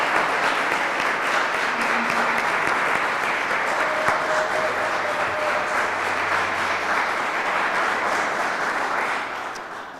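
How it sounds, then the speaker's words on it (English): Sustained audience applause at an award ceremony honoring teaching award recipients, a dense steady wash of many hands clapping for the full stretch before tapering off at the very end. "let's give one big round of applause to our recipients today"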